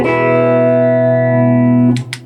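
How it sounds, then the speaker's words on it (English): An electric guitar played through a chorus effect pedal on a pedalboard rings out as one loud sustained chord with a shimmering, slightly wavering tone, then cuts off near the end as a few brief scratchy string noises follow. "that's not trem, that's chorus, and it is working"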